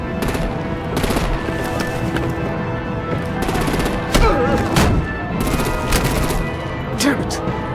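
Rapid bursts of gunfire and heavy impacts in the Batman: The Enemy Within video game, loud and close, with rattling volleys mixed with shouting voices.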